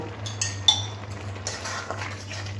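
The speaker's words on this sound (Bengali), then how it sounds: "চিনিটা দিয়ে চিনিটা খুব ভালো করে মিশিয়ে নেব।" A spoon stirs sugar into green tomato curry in a pan, making a few light metallic clinks and scrapes against the pan over a steady low hum, with no talking.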